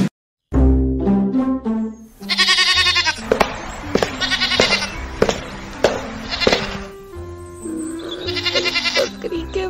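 Young goats bleat repeatedly as a sound effect in an audio drama, several wavering, nasal cries following one another, close and loud, with thuds and clatter between them.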